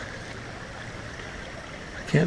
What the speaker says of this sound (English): this is a nice little stretch of creek